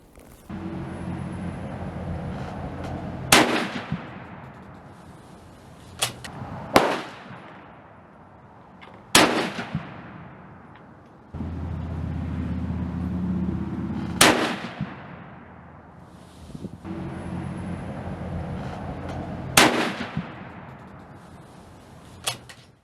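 Rifle fitted with a vintage peep sight, firing old surplus ammunition: five loud sharp shots spaced a few seconds apart, each ringing out in a long fading echo, with quieter handling noise between them.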